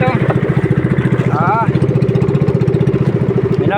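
Small fishing boat engine running at sea in bad weather, a loud, close, rapid rhythmic chugging throb steady throughout, with a voice talking over it.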